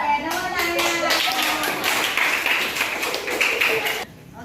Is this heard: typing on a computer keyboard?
no